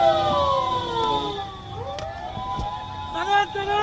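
A wailing ambulance siren, from a hearse carrying a body to the parliament building, rises and falls nearby amid traffic noise, with voices talking over it.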